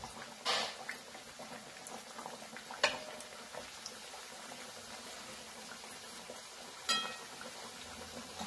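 Puris frying in very hot oil in a kadhai give a steady low bubbling crackle, with a few sharper splashes and clatters as the dough goes in. No one speaks.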